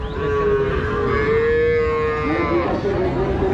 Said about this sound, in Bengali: দর্শক এটা একটা বকনা গরু